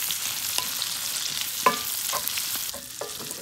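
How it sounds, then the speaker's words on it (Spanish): Sausage frying in a pan after releasing its fat, being stirred while it browns for a lentil dish; a steady close sizzle with a few sharp scraping clicks from stirring, no voices. "Le vamos a poner el humillo a la salchicha. De igual manera, a que se fría."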